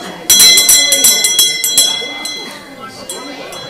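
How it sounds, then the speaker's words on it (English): A school bell rings loud and close, a rapid metallic clanging that rattles on for about two seconds before fading into a lingering hum, with voices talking underneath. "I appreciate the school bell"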